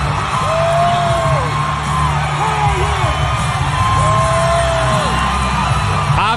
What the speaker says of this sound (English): Obviously, all that cheering for Luke Bryan.